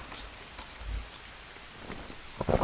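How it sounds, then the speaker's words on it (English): Soft, steady rain patters in the background of a survival video game set in the Amazon, fairly quiet, with a few faint electronic tones near the end. "Oh, it's raining."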